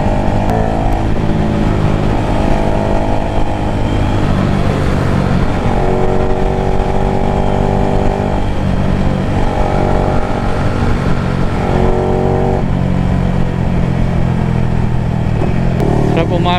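A Yamaha Sniper motorcycle on a stock ECU with 160 injectors revving, a loud steady engine drone with rising and falling harmonic tones as the throttle is blipped, close to the listener throughout.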